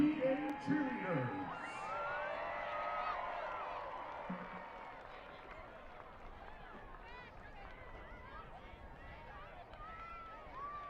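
Cheering crowd at a high school football game, Broken Arrow versus Bixby, with whoops and yells from the stands, loudest at the start and then settling into a steady background roar while an announcer talks over it.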